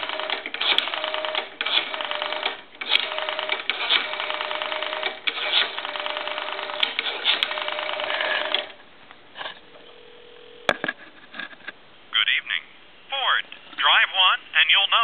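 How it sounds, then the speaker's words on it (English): A Western Electric 191G three-slot payphone gives a steady dial tone for several seconds, broken by handset clicks, followed by a quieter stretch and then short bursts of dialing tones close to the mic. "Should hear a dial tone. And go ahead and dial that."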